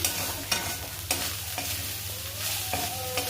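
Whole spices and cumin powder fry in a pan for a jackfruit curry, a constant hot sizzle cut by several sharp, evenly spaced scrapes and knocks of a spatula stirring.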